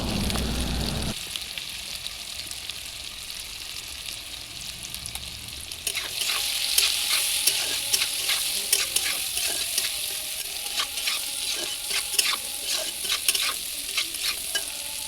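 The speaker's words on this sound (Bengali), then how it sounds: "দিয়া আলুটারে লাল লাল করে ভাজা করিয়া এটারে নামাইলাম একটা বাটির মধ্যে।" Potatoes seasoned with turmeric and salt fry in a wok and are stirred until reddish. A quieter sizzle swells into loud crackling partway through, with repeated scraping stirs and no voices.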